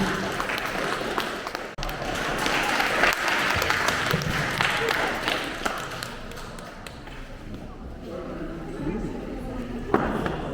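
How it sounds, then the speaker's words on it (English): An audience at a teacher training day claps in a dense, steady burst that thins out toward the end, with a few sharper thumps and some background voices. "So big round of applause for Dan for helping me today with Zoom."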